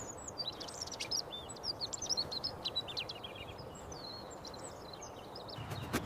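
A small bird chirps in bright, short repeated tweets over a soft outdoor hiss, moderately near, with brief pauses between bursts.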